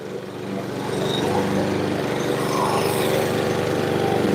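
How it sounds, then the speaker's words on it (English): A lawn mower with a grass-catching bag cuts a yard, its engine droning steadily and close, rising slightly in loudness over the first second and then holding a continuous rough hum. "I'm using the bag on the mower to catch the clippings."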